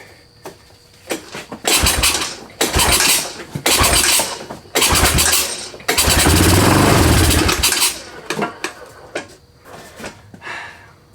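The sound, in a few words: 1997 Honda Recon 250 ATV engine firing briefly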